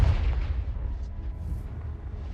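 The Confringo explosive spell in Hogwarts Legacy lands as a deep boom at the start, then rumbles and fades over a couple of seconds, fairly quiet overall.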